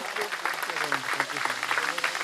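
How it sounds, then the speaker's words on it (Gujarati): Audience applause for donors at a ceremony patters beneath someone speaking into a microphone, the clapping a busy, moderately loud wash under his voice. "એકવાર આપણે જોરદાર તાળીઓથી વધાવીએ"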